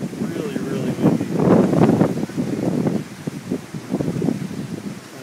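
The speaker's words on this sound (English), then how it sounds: "Really, really windy." Strong wind from a big dust storm in Chandler, Arizona rumbles and buffets the microphone in uneven surges, loud and close throughout.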